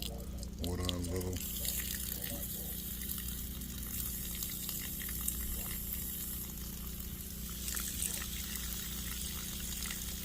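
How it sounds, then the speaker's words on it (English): Water runs from a tap in a steady, faint rush, with a brief low voice near the start. "Let me turn on the water a little."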